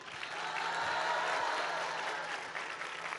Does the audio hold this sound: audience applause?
yes